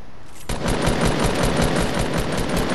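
SCAR assault rifle firing in a video game, a loud, rapid sustained burst of automatic gunfire that starts abruptly and continues steadily to the end.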